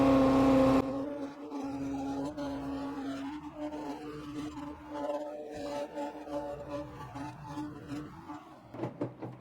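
A worn, trashed car engine barely idling, a low, rough, uneven rumble with a steady hum that wavers and sputters close by, without speech.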